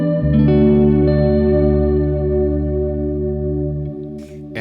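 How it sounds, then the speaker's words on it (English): An ambient electric guitar chord is fed through the Spatium algorithm of a GFI System Skylar reverb pedal, swelling into a long, loud wash that sustains and slowly fades, followed by a couple of light string touches near the end. "the next algorithm is called Spatium and it sounds like this"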